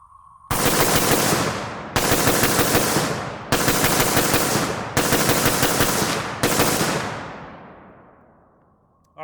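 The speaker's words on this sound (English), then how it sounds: "I'm gonna shoot at a little bit faster tempo and see if we can heat the gun up" Rapid strings of rifle fire from a Palmetto State Armory Krink loaded with steel-case ammo, five loud dense bursts in quick succession, each cut short by a brief pause, with a long ringing decay after the last.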